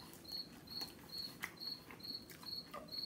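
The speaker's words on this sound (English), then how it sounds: "this cricket is not shutting the fuck up, no" A single cricket chirps in steady, evenly spaced pulses close by, repeating without pause against a quiet indoor background, with no talking.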